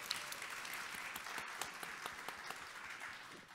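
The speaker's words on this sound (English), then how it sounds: "Round of applause" Audience applause at a New York Botanical Garden talk welcoming a speaker, a steady wash of many hands clapping with scattered sharper claps, fairly distant and continuous throughout.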